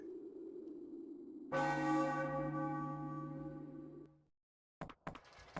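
A church bell in the video game Final Fantasy IX strikes once, loud and resonant, ringing out for a few seconds over a low rumble before fading, followed by brief clicks.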